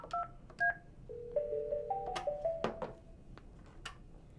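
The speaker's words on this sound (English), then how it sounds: "I'm going to call this phone again." An IP desk phone keypad sounds a string of short dialing beeps for an extension, several quick tones in an uneven sequence, a few overlapping, fairly faint, with light clicks and no speech.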